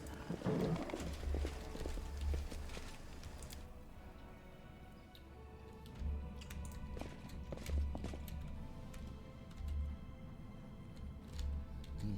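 Horse hooves clip-clop in the fantasy role-playing game Pathfinder: Wrath of the Righteous, a steady walking rhythm that carries through the whole stretch at moderate loudness over a low ambient background, with no talking.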